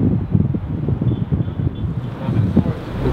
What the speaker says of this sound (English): It basically means that it's strong wind, we have to wait.